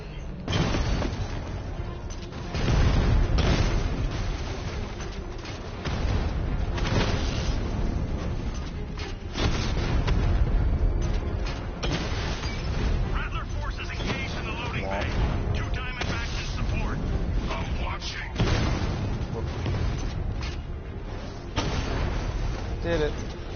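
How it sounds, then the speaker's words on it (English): Repeated heavy booms from a tank's 60mm cannon and explosions in the video game Batman: Arkham Knight, arriving in loud bursts every few seconds over a continuous rumbling game soundscape, with speech mixed in. "Your 60mm cannon will penetrate these heavily armored units, but it'll take a few direct hits to destroy them."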